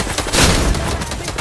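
Burst of gunfire in Fortnite, a short loud crackle of shots over dense game noise.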